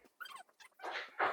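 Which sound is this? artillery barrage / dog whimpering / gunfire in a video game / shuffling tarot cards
dog whimpering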